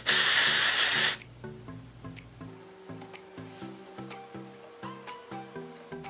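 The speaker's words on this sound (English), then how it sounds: "I'm going to take a toothbrush and some hairspray, and I'm just going to go ahead and spray the toothbrush" A loud hiss of hairspray sprayed onto a toothbrush lasting about a second, then it stops and soft rhythmic music continues alone.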